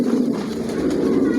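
Racer pigeons of a Johnson long-line strain cooing nearby, a soft low rolling coo that continues steadily for over a second.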